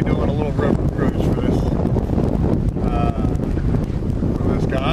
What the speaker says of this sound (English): On top of it being windy